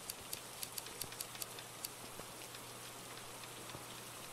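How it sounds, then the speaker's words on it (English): Rain falls on a front porch as a soft, steady patter with scattered sharper drips ticking at irregular intervals. It is faint and close, with no talking. "I didn't think that the rain would actually affect it"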